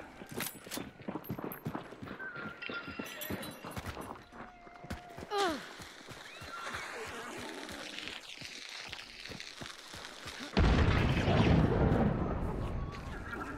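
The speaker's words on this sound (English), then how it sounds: "Freaking grenade." A grenade blast in the shooter game Hunt: Showdown, a sudden loud broadband boom late in the stretch that holds as a rumbling roar, preceded by scattered footsteps, thuds and gameplay noise.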